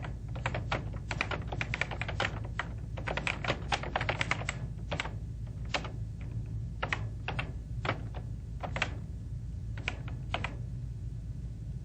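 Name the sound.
typing on a computer keyboard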